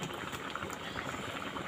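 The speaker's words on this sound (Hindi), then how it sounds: "अभी और थोड़ा सा उबलने देती हूँ" Fish curry with Sichuan leaves and seeds bubbling in a cooking pot, a steady soft simmer of small pops and hiss that runs faint and continuous throughout, with no talking.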